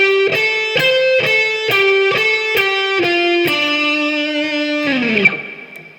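A distorted electric guitar plays a short pentatonic lick alone: a string of quick picked notes, then a held note that bends down and fades out.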